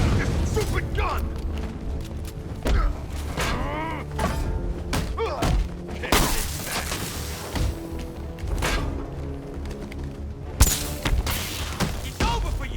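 Gunfire from a weapon in the video game Batman: Arkham Knight, a string of heavy thuds and sharp bursts mixed with mechanical clanks and game music, while someone talks over the action.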